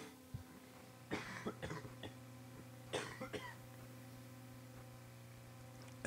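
A sick person coughs and clears their throat in short bursts twice, quiet and close over a faint steady background hum, with no talking.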